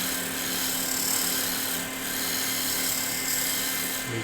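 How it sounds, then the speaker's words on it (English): A roughing gouge cuts lightly along a spinning wooden box blank on a woodturning lathe, giving a steady, close, continuous whirring hiss with a faint tonal hum throughout and no talk. "Back to the roughing gouge. So lightly running along."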